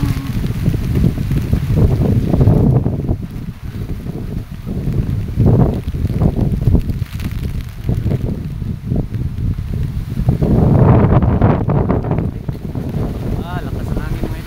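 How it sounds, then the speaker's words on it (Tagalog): Strong wind buffets the microphone in heavy, rumbling gusts that rise and fall throughout, with a person's voice speaking now and then underneath. "Lakas ng hangin"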